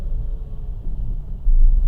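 A car rolling slowly at about 10 mph over a rough, choppy road, giving a steady low rumble with thuds and a heavier bump near the end, heard from inside the vehicle.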